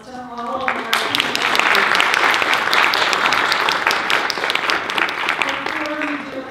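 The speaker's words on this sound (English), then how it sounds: "Let's give a big round of applause to all of our" Applause from the audience at a university Three Minute Thesis competition final, a loud, dense burst of clapping that swells quickly and holds steady before easing off.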